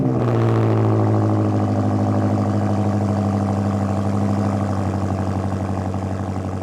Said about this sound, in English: listen with the AWE exhaust.